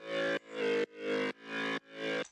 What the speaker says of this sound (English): So it kind of sounds a bit like a dance piano in a sense.